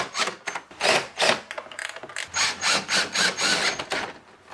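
A hand tool ratchets T25 bolts down on the battery tray of an Audi S3, producing about a dozen loud, close, evenly spaced bursts of clicking, one after another, with no talking.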